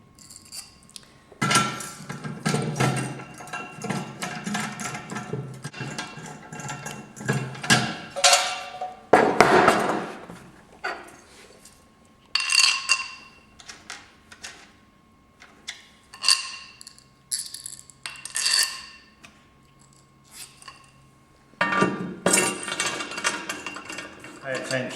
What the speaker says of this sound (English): We can now fix the clamping bars onto the jig.